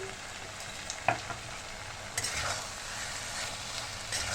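Shrimp curry with taro stems and a little sugar is stirred in a hot pan. A low, steady sizzle runs throughout, broken by a couple of sharp spatula clinks against the pan.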